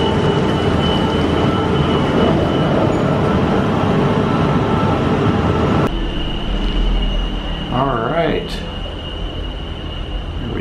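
Disney Skyliner gondola cable car gliding toward Hollywood Studios, a steady loud rumble and whir with a high steady tone, shifting at the midpoint into a quieter hum as it passes through a station, with brief voices.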